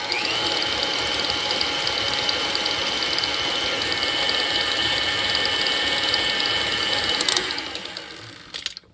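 An electric mixer whirs steadily as it beats butter and sugar for key lime cookie dough, a loud close mechanical hum with a whine that runs for about seven seconds, then cuts off and spins down.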